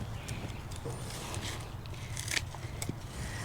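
Scissors snip through lettuce leaves in a greenhouse garden, a few quiet, crisp cuts spaced irregularly over low background noise.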